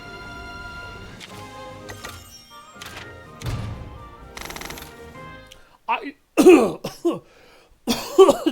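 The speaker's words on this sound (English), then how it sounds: "Damn it, I tried to respond and immediately coughed." A person coughs several times in short, loud bursts near the mic, following a stretch of quieter background sound.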